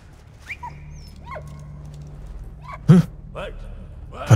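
A dog in the World War I video game Valiant Hearts lets out a few short whimpers and yips among game sounds, fairly quiet, with someone talking lightly now and then.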